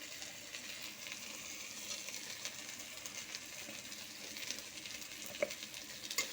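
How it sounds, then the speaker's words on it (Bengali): Ground chili, salt and turmeric frying in a pan, a steady quiet sizzle with soft stirring scrapes and a couple of faint clicks near the end. "দিয়ে মশলাটাকে ভালো করে কষাবো মানে নাড়াচাড়া করে নেব"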